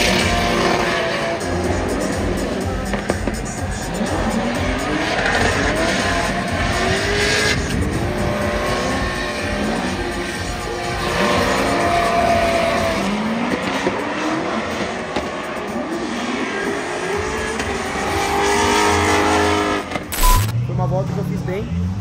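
A turbocharged Formula Drift car with nitrous runs a qualifying lap in fourth gear at St. Louis, its engine roaring loud and continuous with shifting pitch as tires squeal. Commentary runs over the top throughout.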